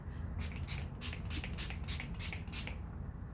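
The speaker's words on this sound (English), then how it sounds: "So I take this and I shake it up, and" A makeup setting spray bottle is shaken several times in quick rhythmic bursts, each a soft rattling hiss, close by and fairly quiet against a low background hum.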